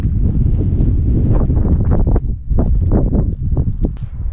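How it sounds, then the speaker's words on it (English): Strong, gusty wind buffets the microphone at a campground among juniper trees in Utah at dusk, a loud continuous low roar with surging gusts and no talking. "It is so windy."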